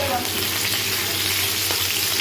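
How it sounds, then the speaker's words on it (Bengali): Potatoes sizzle steadily in a pan with ginger, green chili, cumin and whole garam masala, a continuous close frying hiss with light stirring scrapes throughout and no talking. "আলুগুলো ভাজা ভাজা হয়ে গেছে।"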